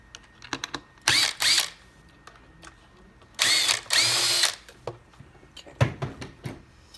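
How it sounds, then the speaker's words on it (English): A power drill backs screws out of a kids' foot stool, giving two main whirring bursts of about half a second to a second each, with shorter buzzes and small clicks and knocks between them, close and fairly loud. "Pull all our screws off."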